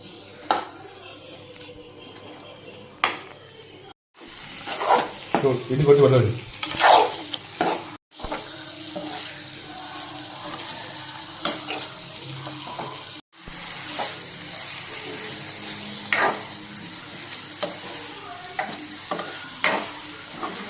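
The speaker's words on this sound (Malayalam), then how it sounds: "നമ്മൾ ലിവർ ഫ്രൈ റെഡി ആയിക്കൊണ്ടിരിക്കുകയാണ്" Beef liver fries and sizzles in a pan while a utensil stirs it steadily, with repeated scraping and clinks close up and brief silent gaps between stretches.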